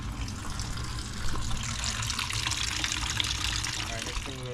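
Coolant water draining steadily from a 2014 Mustang GT during a water pump replacement, a continuous trickling splash heard throughout at moderate level.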